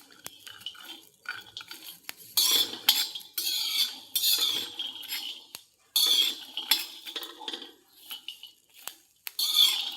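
Fenugreek leaves and green chillies are stir-fried in a pan, with repeated close scraping and clinking of a metal spatula against the pan in irregular bursts, separated by brief pauses, and no talking.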